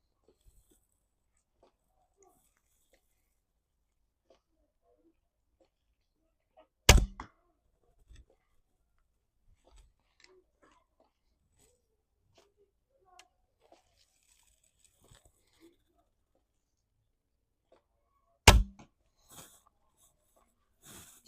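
A longbow string slaps against the archer's arm guard as arrows are loosed from a Mushin Styk St. Patrick Lake longbow, two sharp, isolated snaps far apart amid near silence with faint soft rustles.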